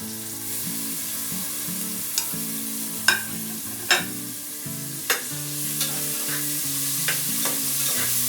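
Tomato frying in a pan for chicken biryani, a steady close sizzle broken by several sharp clinks and scrapes of a spoon stirring, no voices.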